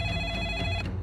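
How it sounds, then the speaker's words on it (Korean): A telephone rings steadily and fairly loudly in the anime Death Note, a sustained electronic tone with slight pulsing and no voices. "경찰로 걸려온 전화"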